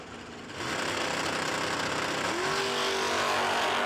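A 1966 Dodge Dart drag car launches at a No Delay Nationals drag race, the engine jumping to a loud, sustained roar after a quieter start and holding strong to the end.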